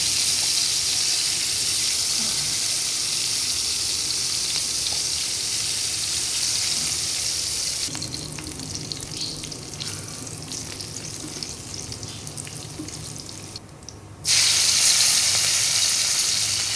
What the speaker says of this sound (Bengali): কিছুটা রসুন কুচি দিয়েছি ভালোভাবে এটা একটু ফ্রাই করে নেব